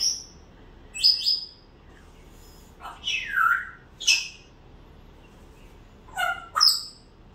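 A small bird chirps and squawks in short bursts, several sharp calls with pauses between, close and fairly loud with no talking.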